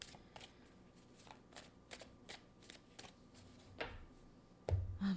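Tarot cards being drawn and handled, with a string of soft, quiet card snaps and slides spread across the moment and a louder rustle of handling near the end; no one speaks.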